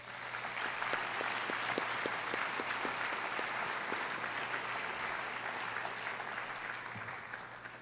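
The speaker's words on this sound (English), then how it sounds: "So let's give a big round of applause to all these people." An audience at a UNIS graduation ceremony applauds steadily, a broad wash of clapping from a large crowd with some distinct nearby claps, holding at a constant level throughout.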